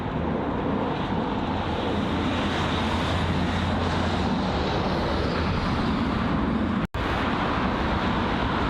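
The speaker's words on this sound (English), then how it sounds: "the Lufthansa 747 heading to Washington" A Lufthansa Boeing 747 jet at London Heathrow, bound for Washington from Frankfurt, makes a continuous broad engine roar at steady moderate level, with one brief dropout near the end and no talk.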